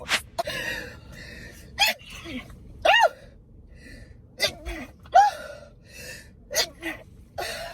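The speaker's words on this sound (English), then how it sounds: "no more sneezing" Several sharp sneezes burst out one after another at uneven intervals during a COVID test, loud and close, with short gasping breaths between them.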